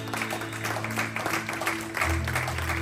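A church congregation applauding during a Sunday worship service, steady clapping that carries on at a fairly constant level alongside sustained keyboard chords.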